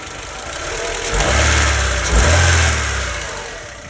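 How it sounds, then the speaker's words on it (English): A 1993 Mazda 323's engine idles steadily up close, a low mechanical hum that swells slightly a couple of times before settling, with no talking. "Just want to let it idle. Listen to it a little bit."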